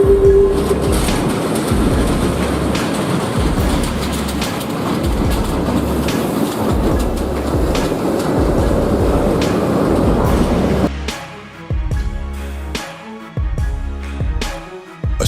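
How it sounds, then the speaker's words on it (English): A freight train rolls and rattles at the Total Grand Puits refinery during a derailment, loud steady clattering of wagons that breaks off into sparser, choppier knocks and scrapes near the end. "A freight train derailed at the Total Grand Puits refinery."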